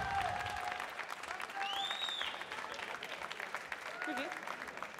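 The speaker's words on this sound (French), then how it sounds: "Je vous demande une tonne d'applaudissements pour Magdalena Brodinska." Audience applause at a World Barista Championship France selection event in Paris for barista Magdalena Brodzinska, representing Café Lomi, a steady crowd clapping throughout with a few whistles and cheers rising above the wash.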